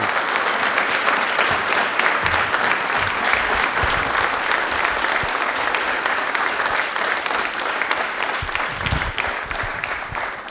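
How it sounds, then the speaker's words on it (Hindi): A large audience at an Ambedkar Jayanti quiz programme gives a loud, sustained round of applause for the chairman of the Aravalli Foundation, dense continuous clapping filling the whole stretch with no talk over it. "एक बार तालियां भागचंद जी के लिए जोरदार वाली होनी चाहिए।"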